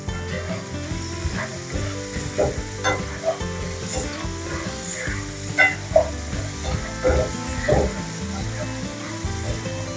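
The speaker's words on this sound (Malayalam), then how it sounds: "ഞാൻ നമ്മുടെ ചേനയൊക്കെ നല്ലതായിട്ട് മൂത്തിട്ടുണ്ട്" Pieces of elephant foot yam frying in a hot pan with a steady, dense sizzle, broken by occasional scraping stirs and small pops, close and continuous without speech.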